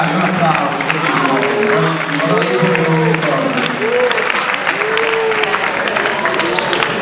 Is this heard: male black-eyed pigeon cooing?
no